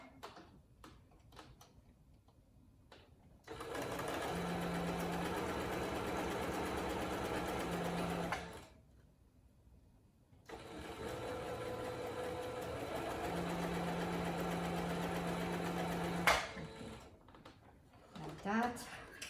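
Sewing machine stitching the seam of a fabric mask, two long steady whirring runs separated by a pause, with a hum tone and quiet handling noise between bursts.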